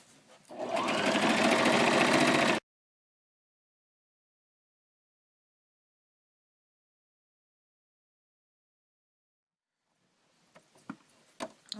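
A sewing machine stitches a doily throw pillow in one brief, close, rapid whirring run of about two seconds, followed by long silence and then faint handling clicks.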